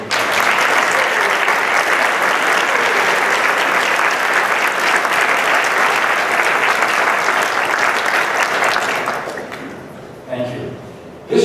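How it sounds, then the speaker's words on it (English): At a formal awards ceremony, an audience breaks into loud, sustained applause that carries on steadily for several seconds before tapering off, with a brief voice at the end. "Let's give them all a round of applause."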